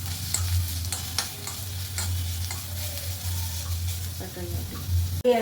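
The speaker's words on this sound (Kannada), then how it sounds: "ಮತ್ತು ಕರಿಬೇವು ಇಷ್ಟನ್ನು ಎಣ್ಣೆ ಹಾಕದೆ ಹುರ್ಕೋಬೇಕು" Curry leaves dry-roast in a pan with no oil, giving a steady low hiss with scattered scraping stirs and light crackles throughout.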